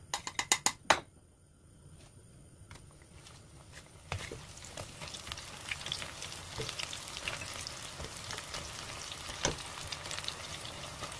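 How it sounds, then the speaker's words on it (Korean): Oil sizzles and crackles steadily as fatsia shoots (dureup) deep-fry in a second frying, with a few sharp clicks and clatters at the start and some occasional scraping. "두번 튀깁니다"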